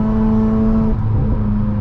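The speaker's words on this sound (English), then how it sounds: "the car is like burbling a lot, and honestly it just sounds so cool" Rotary engine of a Mazda RX-8 burbling on a night drive, heard loud and close from inside the car as a steady droning hum with a choppy, uneven burble and no voices.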